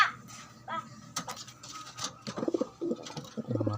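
Blue bar pigeons, including young birds, give soft, low coos in short repeated bursts, with a few brighter chirps mixed in, while a person talks nearby.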